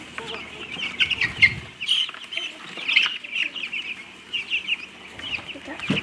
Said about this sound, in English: You want a baby chicken?